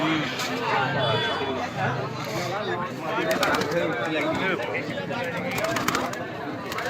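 Pigeons coo softly beneath a busy crowd at Beldanga pigeon market, with steady chatter and bustle all around.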